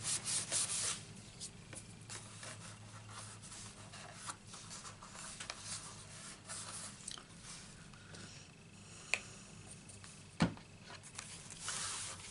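A layer of paper cardstock is rubbed down by hand after gluing, giving a soft, continuous close scrubbing with a few sharper taps.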